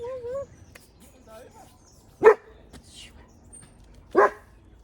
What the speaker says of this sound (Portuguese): Chegou gente lá, eles estão latindo.